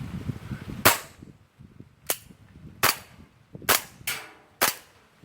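BB gun fires .25 pellets at a target: five sharp, loud cracks come at uneven intervals of roughly a second, each followed by a short ringing tail over faint background noise.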